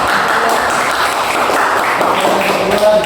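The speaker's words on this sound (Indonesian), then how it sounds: "kasih aplaus kepada teman" Classmates clap for a presenter after a class presentation, a steady, dense patter of many hands that holds evenly throughout at close range.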